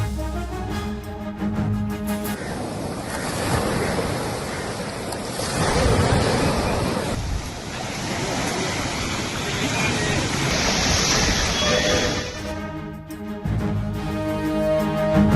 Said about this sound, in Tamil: பாம்பன் கடல் பகுதியில் வழக்கத்திற்கு மாறாக கடல் சீற்றம் அதிகரிப்பு.